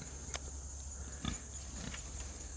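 Pigs in a silvopasture paddock give a few faint, brief grunts against steady outdoor background noise and a high insect-like whine.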